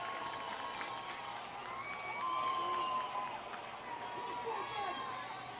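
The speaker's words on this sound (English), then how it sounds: "Sparse crowd here in Richmond getting into it." Sparse crowd at a minor-league baseball game in Richmond, a steady murmur of scattered cheering and chatter with a brief swell in the middle, heard from a distance under the ballpark ambience.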